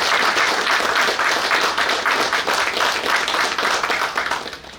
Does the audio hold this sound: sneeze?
no